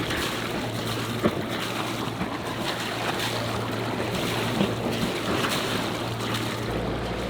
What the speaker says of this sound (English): We are motoring out of our little Isolation Bay.